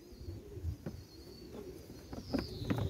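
Soft, low cooing from young nestling pigeons, a few repeated throaty coos close by in a quiet room.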